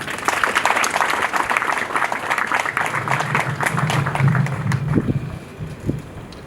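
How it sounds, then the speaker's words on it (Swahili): Applause from an audience at a ceremony honouring visiting doctors from Tanzania, a dense, steady wash of many hands clapping that swells, then thins and fades toward the end. "Hii ni kazi kubwa sana, wanastahili makofi mengi sana."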